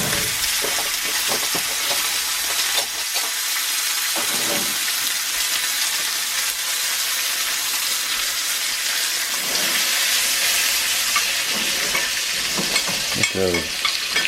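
Garlic and butter sizzling in a cast iron pan, a loud continuous close frying hiss with occasional stirring and utensil knocks, no talking.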